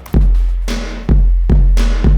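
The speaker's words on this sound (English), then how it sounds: "Just the kick and the snare." Dry, basic kick and snare from an Elektron Machinedrum drum machine, the kick from its analog modeling section: loud, punchy kick thumps alternate with two crisp, noisy snare hits in a steady, isolated groove.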